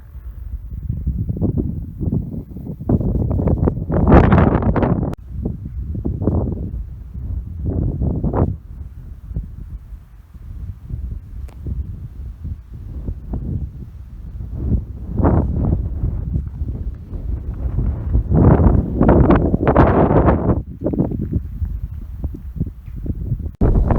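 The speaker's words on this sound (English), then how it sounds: "Quite hot, it's quite windy." Wind gusts across an Iron Age to early Romano-British hill fort on open Wiltshire downland, a steady rushing buffet with swelling bursts of microphone wind noise throughout, no talk.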